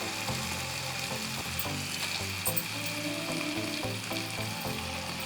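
Quail pieces sizzle as they drop into a pan of fried tomato masala, a steady bright frying hiss with faint stirring clatter underneath, close and continuous with no talk.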